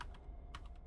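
Quick keystrokes on a computer keyboard while a web address is entered, a short burst of faint clicks close by over a constant low hum.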